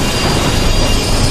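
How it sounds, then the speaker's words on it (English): A high-speed passenger train during the Eschede derailment, with emergency air brakes deploying: a loud, steady rushing roar of wheels and rail noise with a faint high squeal, continuous throughout. "At this moment, emergency air brakes automatically deploy throughout the train."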